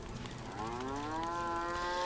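A cow mooing in the farming video game Force of Nature 2, one drawn-out low moo rising and then holding, close and clear over a soft ambient bed.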